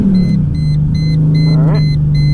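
Mercedes SLK32 AMG supercharged engine, running hot, held at a loud steady rev during a small burnout, a deep sustained drone close by with a brief rising rev near the end.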